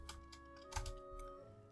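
Rapid typing on a computer keyboard while searching for leather armor in a Pillars of Eternity 2 Deadfire file, with irregular close clicks and a steady electronic hum underneath.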